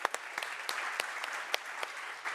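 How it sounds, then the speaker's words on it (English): Scattered applause from a conference audience at a plenary session, with sparse, distinct claps repeating irregularly over a steady low patter, moderately faint and without speech. "Will you help us to give a warm round of applause to you all?"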